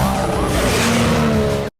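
A car engine screams at high revs, sustained and loud for about two seconds, with a harsh, buzzing tone and some tire noise before cutting off abruptly.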